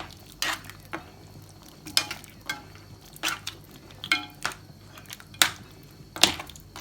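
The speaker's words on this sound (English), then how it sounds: "Stir it all in like this" A spoon scrapes around a pot, stirring tomato puree and ketchup into Jamaican curry goat, with close, repeated clinking strokes coming roughly once a second and no talking.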